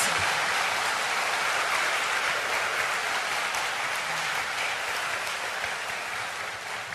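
An audience at a religious gathering at Cheonbok Gung applauds, with dense, steady clapping that fills the room for about seven seconds and tapers slightly at the end.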